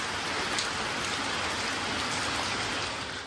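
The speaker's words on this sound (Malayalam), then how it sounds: "എന്നിട്ടും ഒരു രക്ഷയില്ല, മഴ മാറുന്നില്ല." Heavy rain falls on the forest at a stay in Valparai, a loud, thick, constant roar of drops with no pause or other sound.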